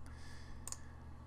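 A computer mouse clicks while working in Adobe InDesign CS2, giving two quick, faint clicks close by, one at the start and a sharper one just after the midpoint, over a quiet room hum.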